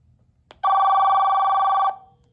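A car phone project rings for an incoming call with a single sustained electronic tone about one second long, clear and close after a soft click, with quiet background hum.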